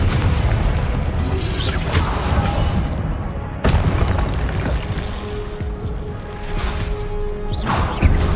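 Repeated Confringo blasting-spell explosions from the Hogwarts Legacy video game, loud booming bursts landing every second or two over a continuous rumbling game soundscape with no talk.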